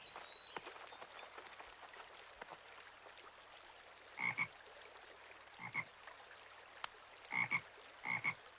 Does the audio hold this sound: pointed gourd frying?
no